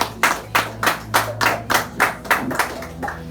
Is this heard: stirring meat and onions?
no